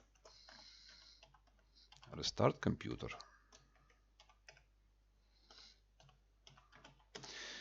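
Soft clicking of keys on a computer keyboard in short bursts, quiet and close, interrupted by a few louder knocks.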